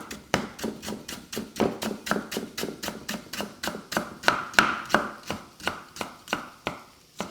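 A knife chopping galangal on a cutting board, about twenty sharp, evenly paced chops, close and fairly loud, with no voices.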